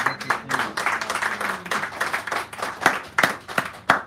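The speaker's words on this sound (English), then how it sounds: "Give her a nice round of applause." An audience claps for a speaker coming up to the microphone, a scattered patter of hands that grows into sharper, separate claps, with a few voices faintly underneath early on.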